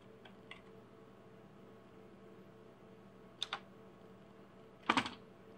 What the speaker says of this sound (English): we're gonna type in